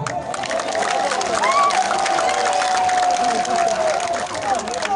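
A crowd at a political speech in Congo claps and cheers in a dense, loud, continuous roar, with a voice briefly rising above it.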